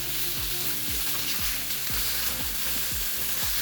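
Large fish pieces fry in a pan while being turned and stirred, a loud steady sizzle broken by a regular series of knocking spatula strokes against the metal.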